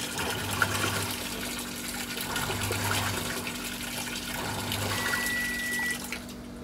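A single-tub washing machine with an E4 error washes a load, with faint water sloshing over a steady motor hum and low, rhythmic pulses of agitation every couple of seconds.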